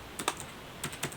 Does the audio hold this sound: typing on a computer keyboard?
yes